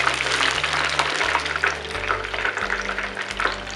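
Prawns for Koliwada-style crispy starter frying in hot oil, a dense steady sizzle and crackle filling the whole stretch, close and loud, with a low hum underneath and no talking.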